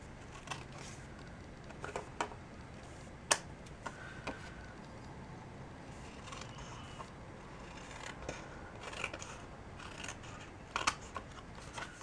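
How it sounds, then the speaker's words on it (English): Scissors trim excess paper from the edge of a handmade card, with quiet, scattered snips and small ticking clicks over a faint background hiss. "And then we can flip it over and trim off the excess."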